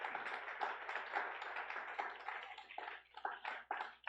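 A church congregation claps in sustained, dense applause for several seconds, with the hand claps forming an uneven steady rhythm.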